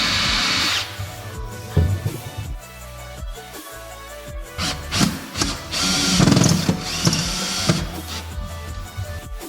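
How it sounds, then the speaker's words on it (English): A power driver sinks screws through an aluminum frame into the steel frame of a camper trailer, giving several whirring bursts of varying length with rattling and clunking between them, close and fairly loud. "the screws get installed through the aluminum frame and into the steel frame of the trailer"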